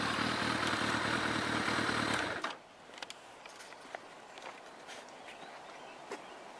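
A motorcycle engine runs loud and steady for about two seconds, then cuts off abruptly, leaving quiet outdoor background with faint scattered clicks and footsteps.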